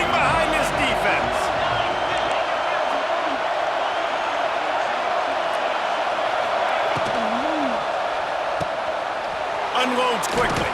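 Loud, continuous stadium crowd roar and cheering in the College Football 26 video game during a third down in the red zone, a steady wall of noise throughout with a commentator talking over it.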